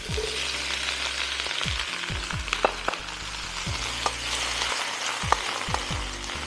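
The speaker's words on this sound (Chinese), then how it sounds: "我们现在可以把扁豆都全部倒入" Green beans sizzle in hot oil in a wok with garlic and star anise, a steady frying hiss punctuated by sharp clinks and scrapes of a spatula against the metal.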